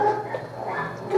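A boisterous, bouncy, dog-reactive female dog lets out a quick bark and yip indoors, fairly close and brief, over a low background hum.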